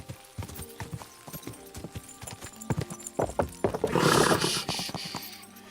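Horse hooves clip-clop in a steady, fairly close rhythm in Kingdom Come: Deliverance 2, building to a brief noisy whinny or snort near the end.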